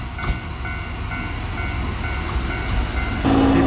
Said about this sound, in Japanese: 約7分遅延してましたが、ようやく列車が来ます。